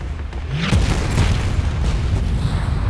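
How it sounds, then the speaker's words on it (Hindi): Bombs exploding on an aircraft carrier flight deck in a kamikaze attack, a loud, rumbling, continuous blast-and-roar filling the whole stretch with no clear pauses. "वेजेस्ता और उसके आदमी डर जाते हैं क्योंकि वो फ्लाइट डेक पर कई सारे बमों को फटते हुए देखते हैं।"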